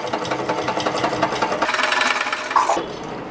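Close, steady whirring of a sewing machine stitching a frill pillow cover made from old tops, a continuous run for a few seconds ending in a brief clatter, with no voices.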